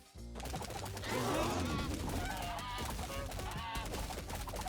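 Geese honking amid a busy roguelike battle in the game How Many Dudes, loud overlapping squawks and calls layered over constant clatter and gunfire-like bursts for several seconds.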